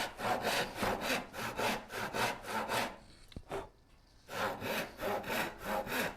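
A hand saw cuts a dado into wood in a shop, with close, even push-pull strokes, a brief pause with a sharp click near the middle, then more steady strokes.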